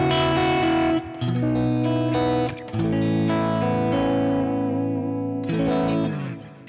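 Clean electric guitar chords on the middle pickup ringing out through a Kemper profile of a Fender Deluxe Reverb tube amp with spring reverb, strummed in a few sustained phrases with brief pauses.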